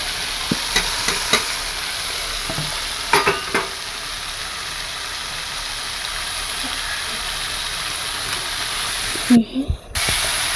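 Chopped mushrooms sizzle steadily in a hot pan while being stirred, a constant frying hiss with occasional scrapes and clinks of the spatula, a voice briefly audible in the background.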